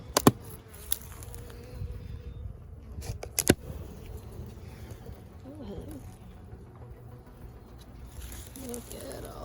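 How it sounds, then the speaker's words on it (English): A steady, dense buzz of many honey bees swarming around a packed hive during an inspection, with a few sharp knocks and a low hum underneath. "Look at all those bees."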